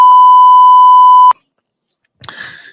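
A loud electronic censor bleep from a button sounds as a single steady tone lasting over a second, then cuts off; after a pause, a short burst of other noise follows.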